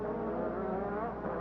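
A 1985 Ferrari Formula One car at the Canadian Grand Prix, its engine note holding steady and loud through a slow corner with rising tonal harmonics, no talk over it.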